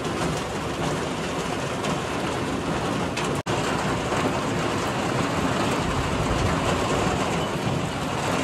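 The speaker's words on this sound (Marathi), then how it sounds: "तर पावसाचा आनंद घ्या तुम्ही बस" Heavy rain pours steadily during a rainy-day cricket outing, a dense, loud, unbroken hiss that fills the whole stretch with only a momentary break partway through.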